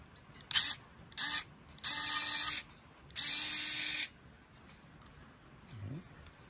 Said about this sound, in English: Let's try to remove the screws of this charger here.